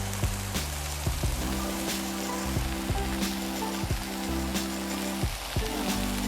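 Bacon sizzles on a Blackstone griddle next to smashburgers, a steady hissing crackle that continues throughout, broken by a few soft taps and scrapes from a spatula.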